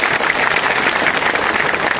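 A large crowd at a kavi sammelan and tiranga rally in Sangod claps loudly: dense, continuous applause that stays full and even for the whole stretch.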